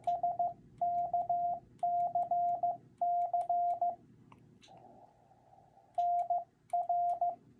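CW Morse code sending an SKCC member number as clean, steady tone beeps in short and long bursts over faint background hiss, moderately loud with no voices.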